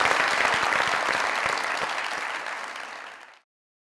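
Loud, sustained applause from a studio audience welcoming a guest actor, dense clapping that holds steady for about three seconds, then fades and stops abruptly.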